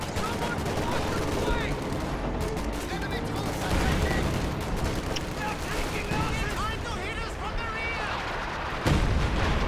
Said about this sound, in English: He just called it major artillery.